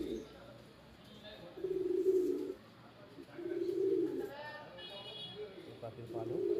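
Racing pigeons entered in a tournament, kept at a friend's house, coo up close in several low, throaty bursts a second or so long, with quieter gaps and faint background noise between them.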